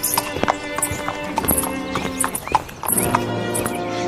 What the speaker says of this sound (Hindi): राजकुमार अपने घोड़े पर सवार हो जाता है